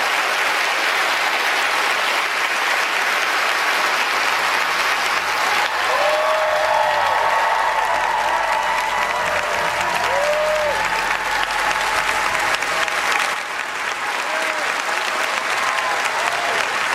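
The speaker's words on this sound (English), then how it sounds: "Applause for former FBI Director James Comey." A studio audience at a televised town hall with former FBI Director James Comey claps loudly and continuously, dense applause with a faint tone passing underneath and a brief dip near the end.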